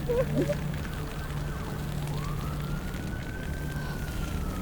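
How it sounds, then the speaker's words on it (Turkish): A fire engine siren wails and rises in pitch over a steady low hum, heard at a moderate distance with no talking. "itfaiye geliyor"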